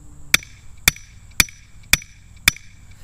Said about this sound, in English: I can't even get this ground probe to go in here